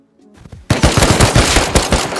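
Rapid automatic gunfire in a video game firefight, a loud sustained burst of close shots firing in a fast even rhythm after a brief quieter lead-in.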